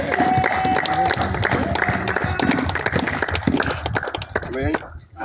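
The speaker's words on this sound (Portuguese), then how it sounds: "Palmas para Jesus." Congregation at a church worship service claps and cheers for Jesus, a busy mix of applause and crowd voices, with people talking loudly over it before it thins out at the end.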